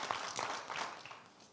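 Applause from a church congregation during an evening worship service, a dense wash of clapping that swells and then slowly fades over a short stretch.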